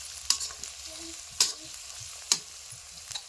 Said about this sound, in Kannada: ಈಗ ಬೆಳ್ಳುಳ್ಳಿ, ಉಳ್ಳಾಗಡ್ಡಿ ಮತ್ತು ಶೇಂಗಾ ಬೀಜ ಮೂರೂ ಚಂದ ಫ್ರೈ ಆಗ್ಬೇಕು ರೀ